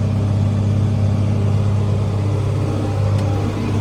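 A tractor drives across a field while planting corn, its steady engine drone continuous, loud and close throughout, with no talk.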